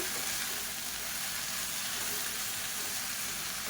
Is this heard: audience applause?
no